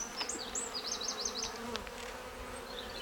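Honey bees buzz at a weak hive whose queen is not laying, with several close individual bees droning and passing over a faint steady background hum.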